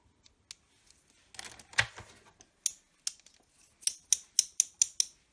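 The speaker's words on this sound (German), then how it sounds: "Schere." Toy scissors from a children's doctor kit are handled, giving scattered small plastic clicks and then a quick run of sharp, evenly spaced snips near the end, close and alone.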